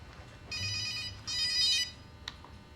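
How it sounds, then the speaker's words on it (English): A telephone rings twice in close succession, each a bright electronic trill lasting about half a second, followed by a single click, over a quiet room hum. "So the phone's gonna ring."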